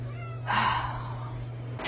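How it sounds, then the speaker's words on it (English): A female cat in heat yowls loudly for a male cat in the middle of the night, one long drawn-out wail with a steady hum underneath, then a sharp new cry starting at the end. "listening to her crying out for a male cat to mate with in the middle of the night"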